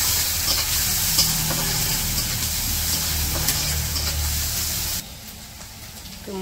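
Onions and green chilies fry in a hot wok, or karai, for a village-style kachur loti dish, with a loud continuous sizzle under repeated scraping stirs before the sound drops away sharply near the end.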